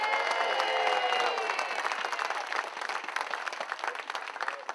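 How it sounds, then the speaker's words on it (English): Audience applause after a campaign announcement introduction of a state representative, a dense crowd of clapping hands loud at first and thinning to scattered claps. "How about another great round of applause for our state representative, Angelo Scascia."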